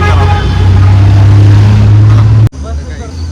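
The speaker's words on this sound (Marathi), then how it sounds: "गावात ट्रॅफिक" A motor vehicle passes close on a village road, its engine drone loud and steady before cutting off abruptly, leaving quieter background road noise.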